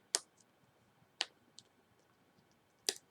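Plastic wrapping on a perfume package being handled, a few sharp crinkly clicks spaced irregularly, close and fairly loud against a quiet background.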